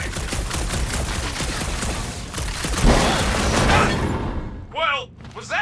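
Dense, rapid gunfire from the Guardians of the Galaxy video game, a loud continuous barrage of shots lasting several seconds, then breaking off into quieter game sounds with brief voice-like chirps near the end.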